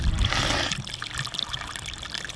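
Cold, shallow stream water trickles and splashes close by in Chile, loudest in a brief gush at the start, then a softer steady burble.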